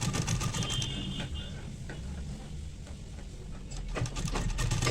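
A sewing machine runs in quick rattling bursts while stitching a flat collar, its needle chatter close and moderately quiet, easing slightly in the middle before picking up speed again, with no speech over it.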